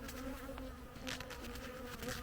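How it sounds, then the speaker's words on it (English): Dense, steady buzzing of many agitated bees swarming close by, with occasional louder passes as insects fly right past or bump into the camera. "I've got bees all over me, bumping the camera"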